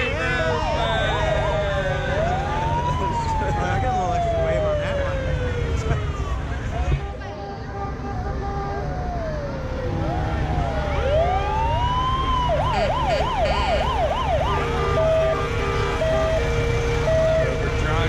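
A sheriff's vehicle siren wails through a trucker parade in Eureka, rising and falling in long sweeps and then switching to fast yelp cycles, loud over constant engine rumble, crowd noise and talk.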